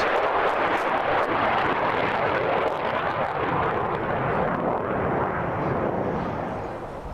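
A loud, broad roaring rush of jet noise, like a jet dumping and burning fuel, steady and close, easing slightly at the end.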